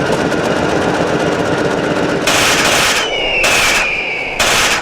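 In the movie Birdemic, an automatic rifle fires wildly into the air from a van driving down a road. The rattling gunfire is loud and continuous, in several rapid bursts over a steady vehicle rumble.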